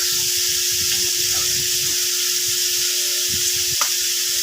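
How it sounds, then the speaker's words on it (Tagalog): Pork sautéing in a pan with cracked pepper and seasoning for pork putchero gives a continuous, loud, even sizzle, with a few faint stirring knocks beneath the steady frying hiss. "Para habang sinasangkot kasi yung lasa kumakapit na sa karne"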